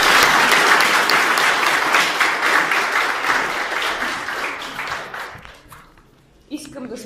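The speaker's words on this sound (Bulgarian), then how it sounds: "всички да поздравим и да ръкопляскаме на невероятното жури" Dense audience applause at a European young talents contest ceremony, loud sustained clapping that gradually fades out toward the end, with a brief voice afterward.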